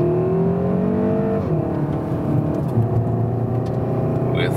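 A Seat Leon Cupra R ST estate driven hard in Cupra mode on a Mallorca racetrack: the engine drones loudly from inside the cabin, its pitch climbing through the revs and dropping at gear changes.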